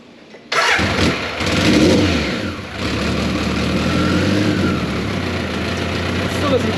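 BMW K100 motorcycle engine cranking and catching after a short silence, then settling into a steady, loud, close running idle with a slight rise in revs.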